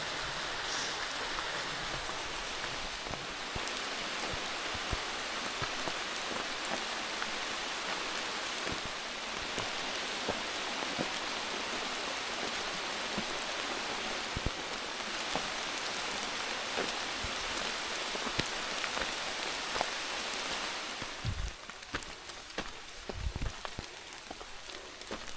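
Steady rain patters on a mountain trail along the Appalachian Trail on Hump Mountain, a dense, even hiss with scattered louder drops close by, continuing without speech.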